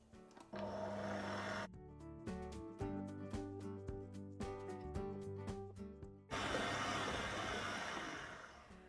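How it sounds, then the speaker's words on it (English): A stand mixer kneading brioche dough whirs steadily, with a rhythmic knocking pattern as the dough slaps around the bowl, fairly quiet and without talk. "I'm going to knead this in the stand mixer for around 8 to 10 minutes"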